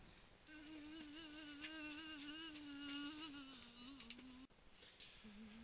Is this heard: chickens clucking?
no